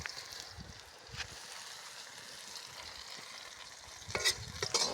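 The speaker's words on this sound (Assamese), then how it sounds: "এতিয়া আমাৰ পিঁয়াজ ভাজা হৈ আছে" Sliced onions fry in a pan with a soft, quiet crackle and sizzle, broken by a few brief clinks and stirring scrapes near the end.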